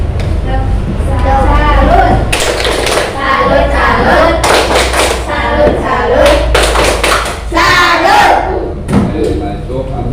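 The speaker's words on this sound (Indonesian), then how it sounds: "Tepuk salut." A classroom of students performs a rhythmic salute clap, loud bursts of synchronized clapping in several repeated groups, mixed with voices chanting along.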